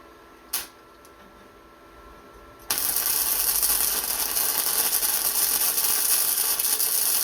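A Vevor MIG 145 110V flux core welder lays a bead on a T-joint: a sharp click and some quiet hum, then a loud continuous crackling sizzle that starts abruptly and holds steady.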